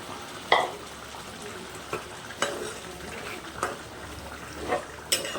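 Washed mung dal being stir-fried in a pan for a papaya ghonto: soft scraping and stirring strokes at irregular intervals over a low, continuous sizzle, close by and with no talking.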